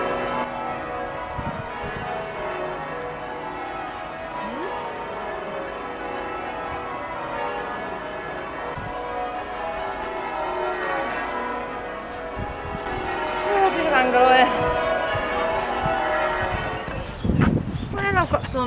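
Church bells ring continuously, their overlapping tones layered into a dense metallic wash that swells louder toward the end.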